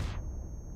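A bomb goes off in Battle Teams 2, a short, faint, low blast whose bright crack fades quickly into a dull rumble.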